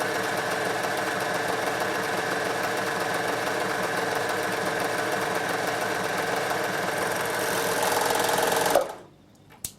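An overlocker serger runs continuously along the edge of merino fabric, a close, steady mechanical hum and rapid stitching chatter that stops abruptly near the end, leaving a brief quiet with one small click.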